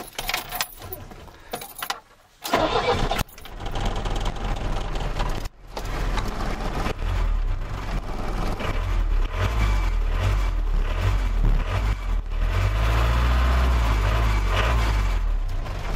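A car engine started with keys in the ignition: jangling keys and a short crank, then the motor catches and settles into a steady, loud, rumbling idle.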